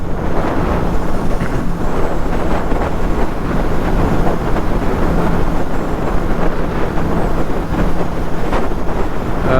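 A 2025 Mash FR750 roadster motorcycle cruises in sixth gear at about 5000 rpm and just over 110 km/h, its steady engine hum running under heavy, constant wind roar.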